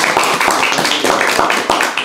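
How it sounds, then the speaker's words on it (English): A crowd at an evening student recognition event claps in steady, dense applause, close and loud for the whole short stretch. "join me in a round of applause of thanks for them coming out tonight"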